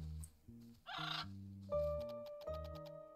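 Tonal electronic chirps and warbling calls of the Gaga bird creature in the video game Little Witch in the Woods, a burst of squawky noise then steady sustained tones and clicks, moderately loud and alone.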